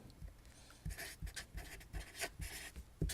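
A pen scratches out a calculation on paper, close up, in short rhythmic strokes and taps with brief pauses between them. No one speaks.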